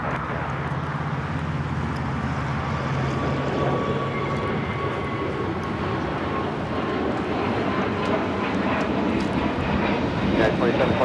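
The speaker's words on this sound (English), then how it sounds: "This is United Airlines 2728 taking off to Denver on the A321neo." A United Airlines Airbus A321neo roars on its takeoff run at Los Angeles International Airport, a steady loud jet engine rumble with a rising whine, while a person talks over it.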